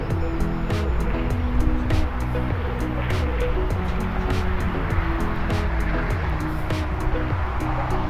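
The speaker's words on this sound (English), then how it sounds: "It's the incessant drone of traffic," Steady traffic drone of 18-wheelers and cars near the National Cowboy & Western Heritage Museum, a continuous low rumble with repeated vehicle swells and passing pitch shifts, heard alone.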